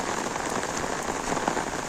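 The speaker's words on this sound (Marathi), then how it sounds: "जाम पाऊस" Heavy monsoon rain pours down steadily at Kopar station in Dombivli, a dense close hiss of drops drumming on surfaces.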